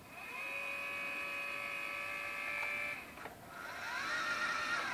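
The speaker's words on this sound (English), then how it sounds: "now if we slew the mount, you'll hear that it sounds very bogged down" Electric motor of a NexStar 6SE telescope mount slewing while bogged down at speed setting 9, giving a steady, strained high-pitched whine that dips briefly and then resumes with a shifting pitch, close and without speech.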